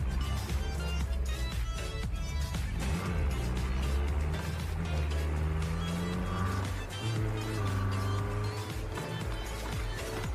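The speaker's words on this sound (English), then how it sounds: "I like the sound of the gear changes." A car in a video game runs through its gears, the engine note climbing and dropping at each shift, loud and continuous with tire noise and a busy game mix.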